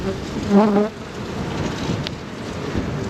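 A dense, steady buzzing of many honeybees in an opened hive fills the clip close by, with a brief low tonal hum near the start.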